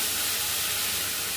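Water from boiling chicken poured into spices in a pan for chicken biryani, giving a continuous loud hiss and sizzle of steam, close and unbroken throughout.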